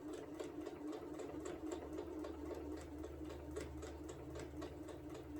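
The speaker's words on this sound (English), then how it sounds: "And then I'm going to put my 2 blocks underneath. And I'm going to sew those." A sewing machine runs steadily, its needle chattering in a fast even rhythm while stitching two quilted placemat blocks together, close and continuous with no talking.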